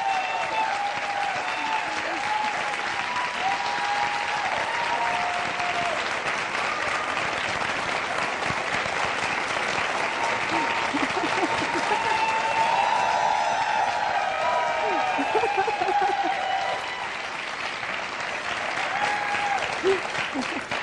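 A TV talk-show studio audience breaks into sustained, loud applause welcoming a singer, steady clapping that barely dips throughout.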